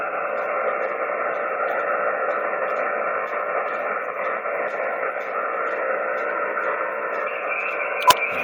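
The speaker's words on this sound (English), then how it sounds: "You got a carrier tone. Hear it? Hear that hum?" An amateur radio receiver, tuned in while using a DX cluster, puts out a steady carrier-tone hum with layered droning tones over faint static. It stays even and continuous, with one short click near the end.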